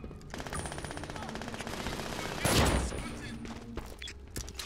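Rapid automatic gunfire in the video game BRINK, a continuous rattling burst of shots with a louder blast partway through, backed by game ambience and footsteps.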